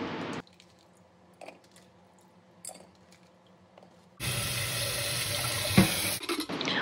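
Water gushes into a pressure cooker holding halved potatoes, a sudden loud steady pour after several seconds of near-quiet with faint clinks, no speech.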